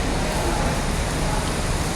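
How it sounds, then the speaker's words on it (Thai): Rain pours steadily at the Mo Chit 2 bus terminal in Bangkok, a dense, even hiss filling the air, close and loud, with faint traffic blended underneath. "ตอนนี้ฝนตกเนาะ"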